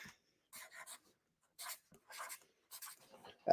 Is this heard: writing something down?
yes